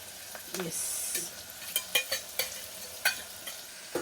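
Spices fry in a pan with a soft, steady sizzle under a series of sharp spoon scrapes and taps against the pan, close by and spaced irregularly.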